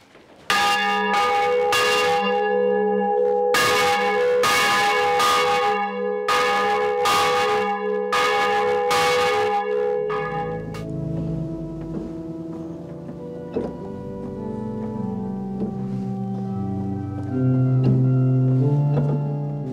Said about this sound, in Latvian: bet zvans skan vēl joprojām